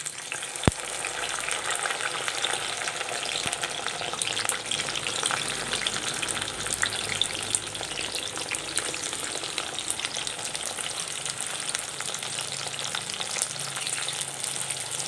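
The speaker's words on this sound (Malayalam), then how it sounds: "എണ്ണയിലേക്കിട്ട് ഫ്രൈ ചെയ്തെടുക്കാം" Sliced okra fries in hot oil in a pan, a continuous busy sizzle and crackle with occasional stirring scrapes and a sharp click near the start, steady and close with no talking.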